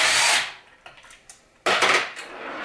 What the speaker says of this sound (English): So you're gonna remove the two screws that are on the connecting this box to the carburetor.